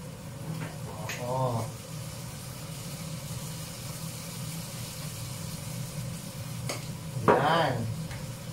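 Green Thai curry sizzling steadily in a pan while being stirred, with a continuous frying hiss and a couple of brief vocal sounds breaking in near the start and end.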